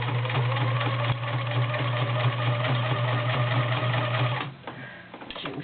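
A vintage Kenmore convertible sewing machine with a size 16 needle stitches through five layers of denim. Its motor hums loudly and steadily for about four and a half seconds, then stops, leaving faint handling noises.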